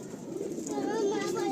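Pigeons coo in a breeding loft of selected birds, a soft continuous low murmur heard close, with a person talking over it.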